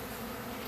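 Honey bees airborne around a hive being removed from a shed, a dense, continuous buzzing drone, close and steady throughout the brief moment.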